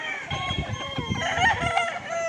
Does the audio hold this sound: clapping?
no